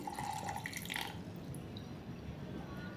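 Water poured from a bowl into a grinder jar of rice batter for neer dosa, a brief trickling splash at first and then a soft steady liquid hiss, close and quiet.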